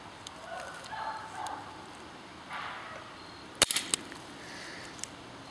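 A WinGun US Combat Special M1911 air pistol fires during a chronograph test, a single sharp crack followed by a couple of quick clicks, standing out against quiet room background.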